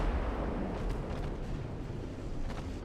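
Torpedo hits on a warship in the naval video game Ultimate Admiral roar as a dense, continuous low rumble of blasts, loud and sustained with no clear separate bangs.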